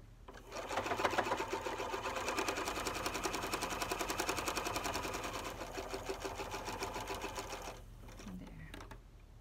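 A sewing machine runs a fast, even burst of stitching while sewing a knotting stitch on a triangle fabric pouch, rapid rhythmic clatter close by that slows and stops near the end.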